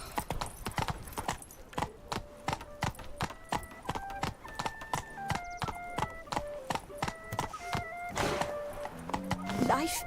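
A horse ridden in The Witcher 3, in Beauclair, clops along with quick, steady hoofbeats under a melodic music bed. Voices talk over the rhythmic hooves.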